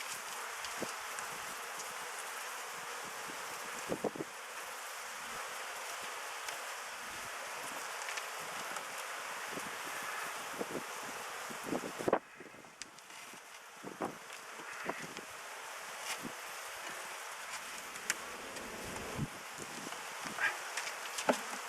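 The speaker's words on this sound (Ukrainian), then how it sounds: "Отак, стільки тут бджіл." Buckfast honey bees hum at an opened hive during wintering, a steady, faint, diffuse buzz with scattered rustles and clicks from handling frames and no talk.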